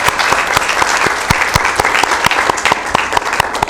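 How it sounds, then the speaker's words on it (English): An audience at a community event bursts into loud, dense applause that holds steady for a few seconds, with scattered sharp claps standing out from the crowd. "Can we give each and every one of them a round of applause?"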